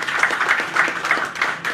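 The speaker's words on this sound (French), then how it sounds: "je vous demande d'applaudir également" Brief applause from a small audience at a philosophy café gathering, with individual hand claps distinct in an uneven, sparse rhythm lasting under two seconds.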